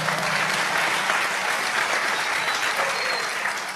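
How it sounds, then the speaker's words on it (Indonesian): An audience breaks into loud, sustained applause, a thick steady roar of many clapping hands close by that holds evenly for nearly four seconds. "Tepuk tangan dong."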